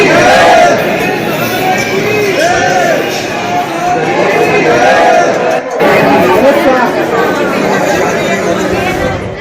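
A dense crowd of devotees at the Khatu Shyam temple in Rajasthan, loud and continuous chatter and shouting from many voices packed together, a steady hubbub with no single voice standing out.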